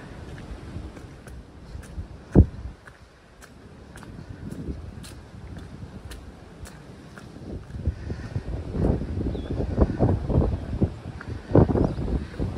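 Strong wind on a mountain trail during an Appalachian Trail thru-hike: steady buffeting gusts rumble against the microphone, building louder toward the end, with a few sharp knocks and rustles.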